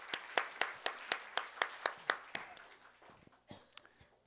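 A church congregation claps in encouragement during a Sunday Easter service, a steady rhythmic beat of distinct claps at first that loosens and thins toward the end, fairly faint in a reverberant room with no talk.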